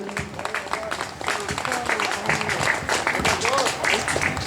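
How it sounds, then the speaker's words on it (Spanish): A church congregation applauds at a service, dense clapping sustained throughout at moderate level with voices mixed in beneath it. "Dale un aplauso a Jesucristo, aleluya."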